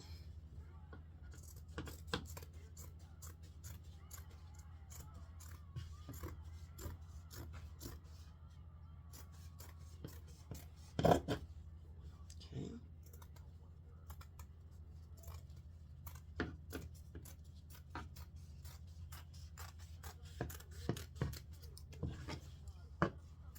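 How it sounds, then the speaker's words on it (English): Sharp, irregular snips of scissors cutting out a circle, close up, with brief pauses between cuts and a quiet background. "I'm going to get a pair of scissors, and we're just going to cut this circle out."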